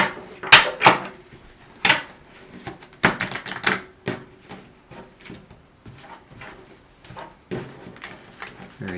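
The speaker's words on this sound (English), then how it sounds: "Ken, I have here just a normal deck of cards, right? Okay. I'll have you give those a shuffle." Quick riffling snaps of cards being shuffled, bursts of flicking in the first few seconds followed by softer, sparser card handling.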